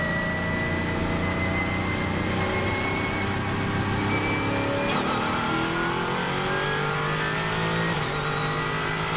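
LMP3 and NP02 prototype race cars pull away together at the start of a four-hour race, a dense roar of many engines revving and accelerating at once, loud and continuous throughout.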